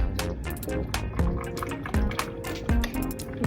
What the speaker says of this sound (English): and then I'm gonna add my milk.